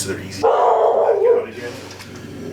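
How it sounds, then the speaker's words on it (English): A dog barks once nearby, with a short whimpering yelp right after it, while someone speaks over and around it indoors. "And that's the dog."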